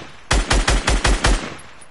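Rapid gunfire in the Fortnite Battle Royale video game: six sharp, close shots in quick, even succession over about a second, then a fading tail.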